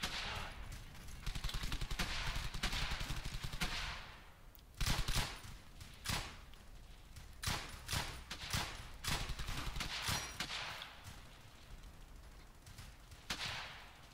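Gunfire in the Brothers in Arms video game crackles as sharp single shots and short bursts, with background battle ambience continuing throughout.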